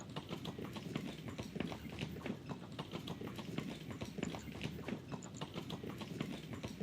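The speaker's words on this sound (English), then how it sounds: "Horses continue racing through the blinding whiteness." Horses gallop through blinding white fog in the visual novel Steam Prison: Beyond the Steam, a fast, steady clip-clop of many hooves drumming without pause, moderately close and unaccompanied by voices.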